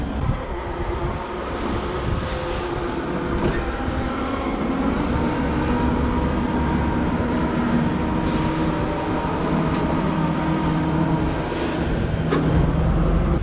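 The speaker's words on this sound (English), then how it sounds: "Chopper's running right there." A forage chopper harvests corn silage in a field, a steady heavy mechanical drone and rumble of machinery running continuously at a moderate distance, with no talk.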